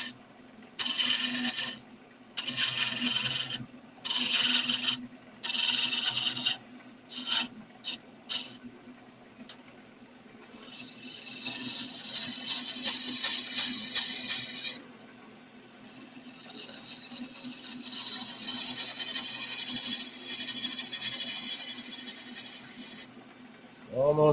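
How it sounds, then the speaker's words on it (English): A woodturning lathe tool makes a series of shallow push cuts on spinning wood, producing loud bursts of harsh scraping and hissing that start and stop repeatedly, then longer sustained cutting passes over a low motor hum. "of shallow push cuts"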